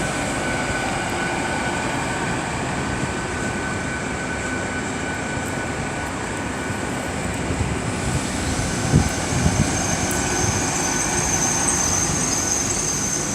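A train pulls into Swindon railway station in Wiltshire with a steady, broad rumble and hum of engines and wheels that holds throughout, joined by faint clanks near the end.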